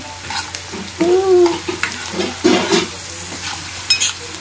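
Stuffing stirred and mixed in a triply pan for stuffed pomfret, with close scraping, clinking strokes over a steady frying sizzle in short bursts.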